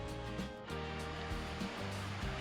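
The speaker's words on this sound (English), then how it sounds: "I hear waterfalls." Steady rushing water of a waterfall at a state park, a continuous broadband roar heard fairly close with no talking.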